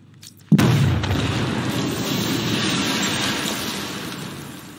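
A heavy explosive detonation in the video game Batman: Arkham Knight, opening with a sharp booming blast, then a loud, sustained low rumble that slowly fades, with no voices over it.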